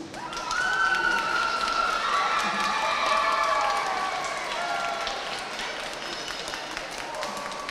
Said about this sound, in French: Le club de natation vous applaudit et vous dit merci.